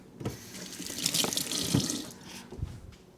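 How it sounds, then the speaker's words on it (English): A kitchen sink tap runs steadily for a few seconds while hands are wetted between rounds of stretching and folding sourdough pizza dough, a close, continuous splashing rush that fades near the end. "So let's wet our hands again."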